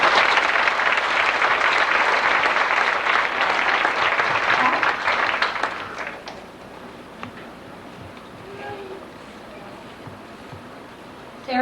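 An audience at an elementary school awards ceremony for student award winners claps loudly and steadily for about six seconds, then the applause fades out into quiet room noise.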